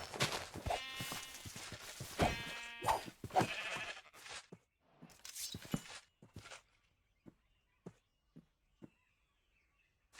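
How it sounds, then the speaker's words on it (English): Several sheep bleat in a meadow inside a zombie apocalypse video game, harmonic cries clustered in the first few seconds, followed by scattered footsteps and small clicks amid quiet. "Surprisingly, I was able to find 3 sheep in the meadow"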